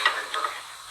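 Bacon frying in a pan while ramp pesto pasta with bacon is prepared, giving a soft, steady sizzle with faint crackles and a couple of light ticks, fairly quiet and without any voices.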